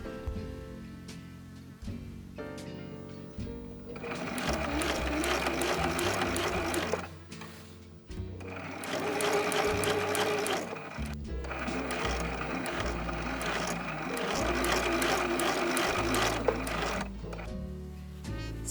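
A sewing machine stitches the zipper facing of a blouse, running in steady loud bursts of rapid needle clatter with short pauses between seams and faint mechanical handling noise in the gaps.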